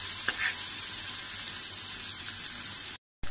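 Ginger, garlic and green chili paste fries in hot oil for a paye dish, giving a loud, steady, close sizzle that cuts off abruptly just before the end.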